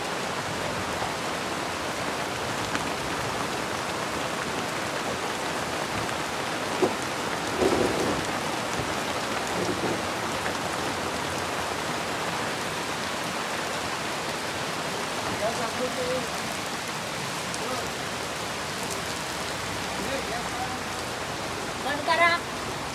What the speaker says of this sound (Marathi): यंदा सुद्धा पाऊस आलाय